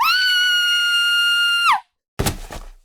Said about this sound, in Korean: 외마디 비명과 함께 마님이 쓰러졌습니다.